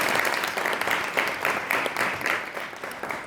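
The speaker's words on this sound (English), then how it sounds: "You are clapping and supporting is the most beautiful thing to end my speech." An audience claps at the close of a speech at a political gathering, steady group applause with a rhythmic pulsing feel, heard at a moderate distance with no voices over it.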